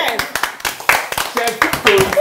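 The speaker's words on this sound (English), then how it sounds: "Clap for the chef." A few people clap in scattered, uneven bursts at home for a family member acting as chef, with loud talking and exclamations over and between the claps.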